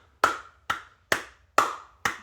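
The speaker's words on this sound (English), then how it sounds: "if I clap, it'll change the color of the LEDs" Five sharp hand claps at a steady, slightly uneven pace, close and crisp, each with a short decaying tail, clapped to set off a sound sensor that changes LED colors.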